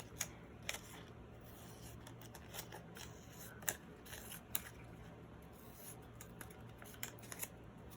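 Scissors snip through paper while postcards are prepared, a faint series of light, close crisp cuts and rustles at irregular intervals over a quiet room.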